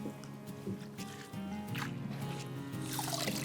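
Washed ugu leaves are squeezed by hand, letting water drip and trickle out in short wet spurts and dribbles, close and fairly quiet.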